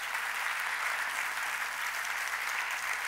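An audience applauds steadily after an evening tribute event, dense even clapping filling the space and holding at constant loudness throughout, with no voices standing out.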